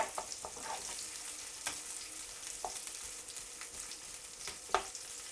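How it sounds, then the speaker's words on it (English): Shallots cook gently over low heat in a pan, giving a soft, continuous sizzle and crackle with a few light stirring clicks and pops. "I've got the shallots on a low heat. I'm just going to keep cooking these gently"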